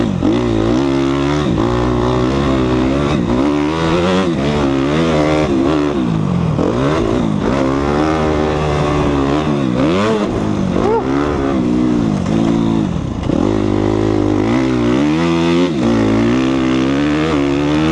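A motocross motorcycle rides a deep sand track in the woods, its engine loud and close, revving up and down continuously with rising and falling pitch sweeps throughout.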